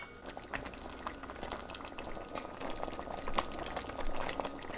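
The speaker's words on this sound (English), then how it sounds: "I'm gonna cover this up and cook this for the remaining time." Kimchi soup with tofu, pork and enoki mushrooms bubbles in a covered pot, a quiet continuous simmer with small pops and crackles and no talking.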